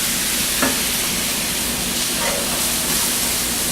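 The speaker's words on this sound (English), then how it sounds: "Now you're going to slowly add your cup of broth." A cup of broth trickles into a hot pan beside smothered pork chops, giving a constant hissing sizzle with faint stirring scrapes, close and even throughout.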